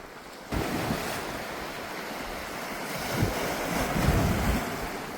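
Sea waves roll and crash continuously, loud and close, mixed with gusty wind rumbling against the microphone.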